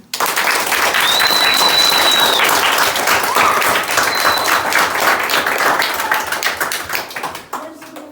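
A group of children claps enthusiastically in sustained applause after a classroom expansion and contraction experiment, dense and close, with a few shouts before it tapers off at the end.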